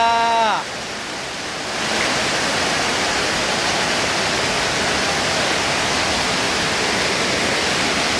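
Heavy rain and rushing flood water make a loud, continuous broadband roar throughout, after a brief voice at the start.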